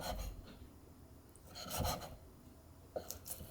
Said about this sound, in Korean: 고기를 식은 다음에 이렇게 썰어주세요.